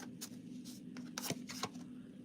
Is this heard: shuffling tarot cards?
yes